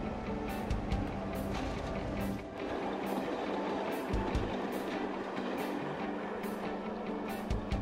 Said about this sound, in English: The train then sets off and picks up the required speed